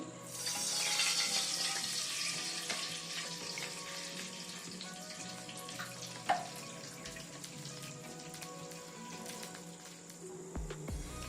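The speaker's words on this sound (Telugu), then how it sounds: "అదే ప్యాన్లో 1 కప్ గోధుమ రవ్వ తీసుకున్నాం కదండి, 4 కప్ వాటర్ యాడ్ చేసుకోవాలండి." Four cups of water poured into a pan that has just held fried wheat rava, making a continuous close hiss and splash with a faint sizzle underneath, steady for about eleven seconds with one brief knock midway.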